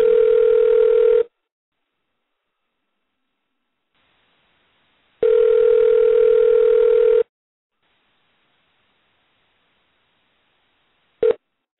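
A telephone dial tone sounds in two steady bursts of about a second and two seconds separated by silence, followed by a brief blip at the end, heard while calling someone back on a talk radio broadcast.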